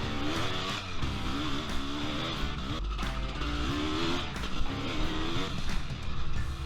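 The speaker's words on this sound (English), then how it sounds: "This time we take the CR500 AF for a spin" Honda CR500 AF 500cc two-stroke motocross bike engine revving hard and continuously on a motocross track, pitch rising and falling with gear changes, loud and close, no voices.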